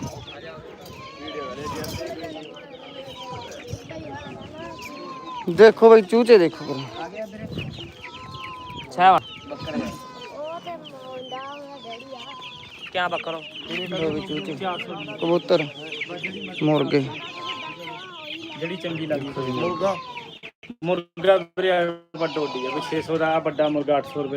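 Chickens, including large roosters, cluck and squawk steadily throughout a noisy livestock and goat market in Dhanaula, Punjab, with people talking nearby over the birds.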